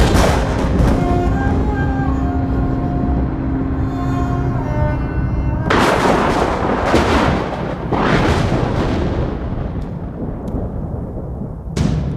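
A loud rapid burst of gunfire cracks out midway, with several sharp shots trailing off afterward, following a sustained tonal drone.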